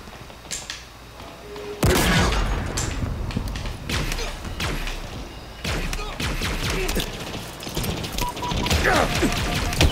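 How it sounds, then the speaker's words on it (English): Grenades are thrown and explode in Halo Infinite, with a sudden loud blast followed by rumbling impacts, crashes and bursts of gunfire layered in a chaotic, continuous battle din. "I just chuck some nades because I was like, if I die, at least I'll do some more damage."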